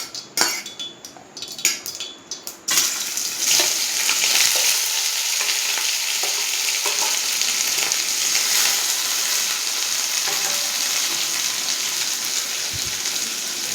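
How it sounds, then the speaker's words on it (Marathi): Chopped ridge gourd goes into hot oil with cumin and mustard seeds: a few sharp clattering bursts, then a strong, continuous close sizzle with faint stirring and utensil scrapes, and no voices. "सुरुवातीला आपल्याला यामध्ये दोडका कट करून घेतलेला आहे हा घालायचा आहे"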